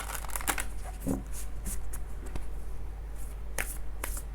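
Tarot cards being shuffled by hand in a quiet room, with repeated soft riffling bursts and papery flicks spread across the clip, close and moderately loud, with no talking.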